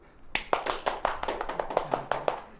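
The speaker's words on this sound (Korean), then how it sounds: "정답! 박수!" Classroom applause from students, a burst of sharp hand claps starting after a brief quiet and continuing in an uneven, lively rhythm, moderately close and loud.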